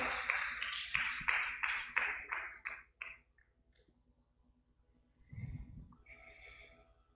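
Audience applause for a speaker at an election-stage outreach event for first-time voters in South Kalimantan, heard as a burst of claps that fades over about three seconds, followed by quieter room noise.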